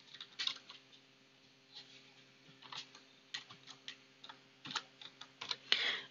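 Quiet clicks of a computer keyboard being typed on in irregular bursts, with short pauses between keystroke clusters, close and faint against a low steady hum.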